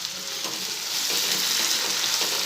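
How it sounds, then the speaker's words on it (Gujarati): Spiny gourd (kantola) pieces fry in a pan with a steady, close hiss and crackle, while occasional soft scrapes mark the vegetable being stirred. No one speaks. "આ રીતે આપણે વચ્ચે વચ્ચે ચલાવતા જઈશું અને શાક કંકોડા ચડે ત્યાં સુધી આપણે એને થવા દઈશું"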